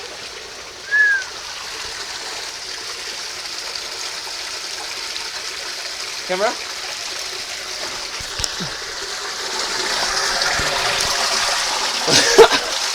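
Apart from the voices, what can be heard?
underground stream flowing through caves in the Ecuadorian forest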